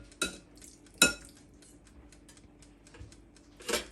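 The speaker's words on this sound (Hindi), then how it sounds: "तो अब ये जो मैंने मैरिनेशन किए हुए हैं ना स्लाइसेस, इनको मैं रखने लगी हूँ 2-2 करके" Marinated salmon slices are set two at a time into an air fryer basket, giving a few sharp metallic clinks and light taps spaced apart, close and fairly quiet, with no talking.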